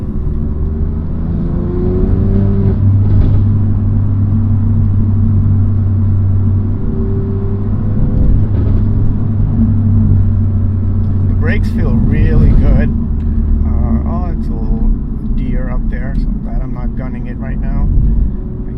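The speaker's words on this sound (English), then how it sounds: "at least this aftermarket one is decently loud, and it makes those bangs and pops" BMW M2 Competition with a loud aftermarket exhaust, driving on the road, a low engine rumble with changing revs and a few sharp transients, heard under a person talking throughout.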